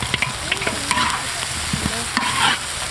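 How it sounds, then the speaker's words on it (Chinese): Goose heads sizzle and clatter as they are stir-fried in a wok with chili bean paste, aromatics and dried peppers, loud and close with steady frying hiss and repeated scraping stirs. "炒香了放了窝头回锅"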